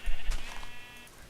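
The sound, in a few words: sheep bleating in the video game Minecraft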